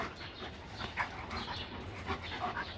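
A dog pants and whimpers softly close by, with faint yips over steady low background noise.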